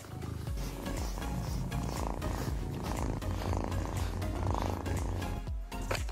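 A cat purrs steadily while someone brushes it, a close, continuous rumble that stays at an even level, with no talking.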